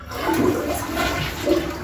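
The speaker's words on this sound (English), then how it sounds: "we're going to go ahead and flush the toilet" A household toilet flushes up close, a steady rushing gush of water with gurgling swells running the whole stretch, with no talking.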